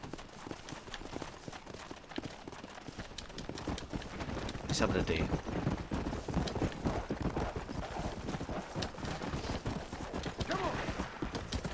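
Horse hooves clip-clop in a steady, fast rhythm while riding in Red Dead Redemption, close and continuous, with someone talking over them.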